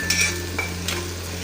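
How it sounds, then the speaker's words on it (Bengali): Noodles cooking in a pan in a home kitchen, giving a steady soft sizzle with a few light stirring scrapes and clinks of a utensil, close by, over a constant low hum and with no voices. "আমি অনুভূতির জন্য একটু নুডলস রান্না করতেছি।"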